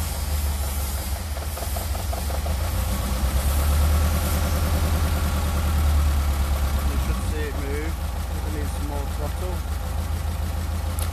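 Four-cylinder engine fitted with twin Weber/Dellorto DCOE/DHLA carburettors idling steadily nearby while the idle is adjusted, a continuous low throb with speech over it throughout.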